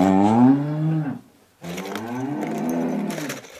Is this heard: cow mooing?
yes